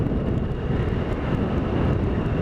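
Triumph Tiger 1050 Sport motorcycle engine on an open road ride, a steady, loud, dense rumbling drone with wind rush, continuous and alone with no talk.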